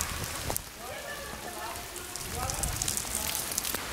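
Heavy rain pours down on an abandoned mental asylum in Italy, with the site flooding; a dense, steady hiss of rainfall fills the scene, with scattered louder drops and faint background voices.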